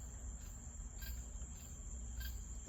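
Cicadas buzzing outdoors, a steady high-pitched shrill drone that pulses slightly, heard at a moderate distance with no talking.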